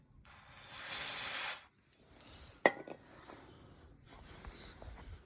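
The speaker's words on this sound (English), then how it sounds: "I just gave the shoes a bit of a clean up with brake cleaner" Brake cleaner sprays in one steady hissing burst onto the brake shoes of a Land Rover Series 3 front axle. Faint metallic clinks and shuffling follow in a quiet workshop.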